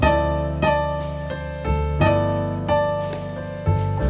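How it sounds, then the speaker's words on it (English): A few plucked guitar notes sliding together in two-note harmony, each gliding into place and ringing out, close and clear. "That's a little harmonized slide."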